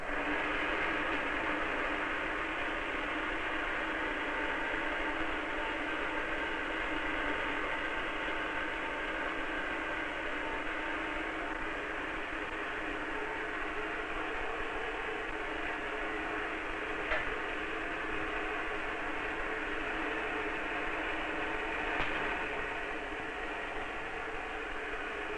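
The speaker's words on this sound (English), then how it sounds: "Start up my charging machine." Electrostatic charging machine in a physics demonstration running with a steady, even mechanical hum and hiss that continues unchanged for the whole stretch, moderately loud with only faint clicks.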